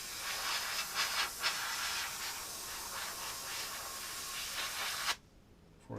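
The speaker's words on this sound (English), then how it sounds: "you can always take your airbrush and you can speed up that drying a little bit" An airbrush blows air over weathered model paint to speed drying, making a steady close hiss that rises and dips slightly, then cuts off abruptly near the end.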